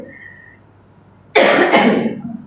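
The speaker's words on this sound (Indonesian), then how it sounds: "jadi sedikit batuk, nggak apa-apa ya" A man with a cold coughs once in a quiet church setting, a single sharp, loud burst that trails off after a near-silent pause.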